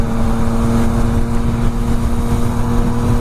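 Yamaha XSR900 motorcycle exhaust with the baffle fitted, under throttle: a loud, steady droning engine tone with strong low humming harmonics, close and continuous, with wind noise and no speech.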